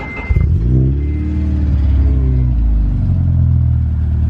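Supercharged Honda Civic Si engine revving up from idle, loud and close, with a deep rumble that climbs and falls through several pitch sweeps before settling into a steady drone.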